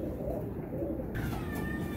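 Rampuri pigeons, a large male among them, coo in a low, rolling murmur, close and steady throughout the brief stretch, with no talk.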